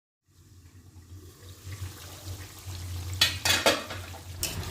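Bengali-style chicken curry cooks in a covered pan and is stirred. A low simmering bubble builds up, followed by several close, sharp scraping stirs near the end, with no voices.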